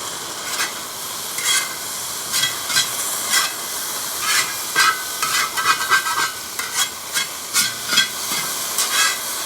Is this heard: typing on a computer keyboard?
no